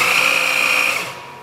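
Stub drill boring a hole in metal for an etching press vertical support, a steady high-pitched whine with grinding texture that runs for about a second and then fades, alone with no talk.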